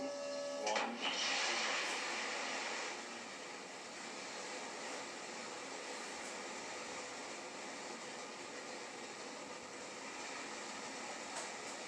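A faint, distant roar of a New Shepard rocket launch rumbles steadily for several seconds, a broad hiss-like noise with a brief louder stretch near the start.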